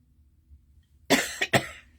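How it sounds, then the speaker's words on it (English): A person with a lingering nighttime cough gives two or three sharp, close coughs in quick succession after a quiet pause. "Nighttime, this cough just doesn't want to go away."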